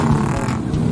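A loud motorcycle engine drones steadily while riding, a continuous close rumble with no voices over it.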